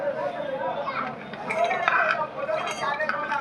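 Ingredients for a matar paneer paste are tipped into a mixing bowl, heard as steady close clattering and soft clinks of utensils against the bowl, with a voice talking faintly underneath.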